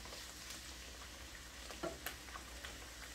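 Food sautéing in a pan with garlic and olive oil, a soft continuous sizzle and fry with a few faint stirring scrapes, close and fairly quiet throughout.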